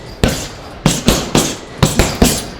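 A boxer lets out sharp, percussive exhales with each punch during a beginner boxing session, seven quick bursts in uneven pairs and threes, close and fairly loud.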